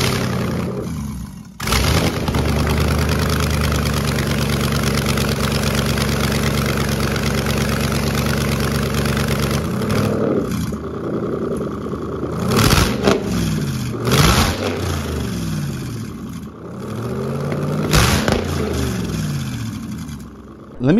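A GM LS L96 V8 engine on a stand with an E78 ECU idles with a deep rumbling burble, then revs up sharply several times in short bursts before settling back to idle.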